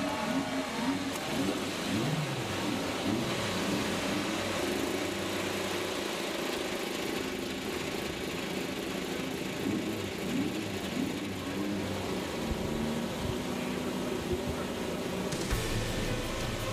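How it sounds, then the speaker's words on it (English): IndyCar race engines start and run on the grid at the Detroit Grand Prix, a steady dense engine drone that holds for the full stretch and carries no voices. "The sound we like to hear, race engines running on a Sunday afternoon."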